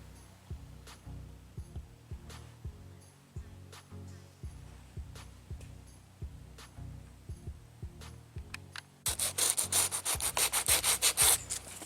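Soft fiberglass filler on a car door panel being shaped and sanded by hand, a steady series of rhythmic rubbing strokes that turns louder and harsher near the end.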